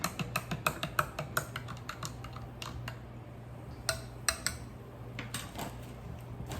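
Spoon clinking against a glass or jar while lime juice is stirred into homemade ginger ale, a run of sharp, quiet metallic taps in uneven rhythm, some clustered and some spaced apart, heard alone.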